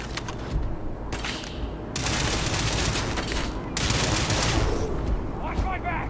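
Bursts of rapid gunfire in a shooter video game, loud dense volleys starting and stopping in several blocks over a few seconds, with brief quieter gaps between them.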